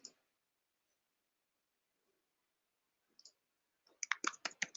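Computer mouse clicks while working in custom reports software, an isolated click at the start, another after a long quiet pause, then a quick cluster of crisp close clicks at the end.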